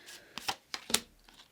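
Tarot cards shuffled by hand in several short papery bursts, quiet and close, with brief pauses between riffles.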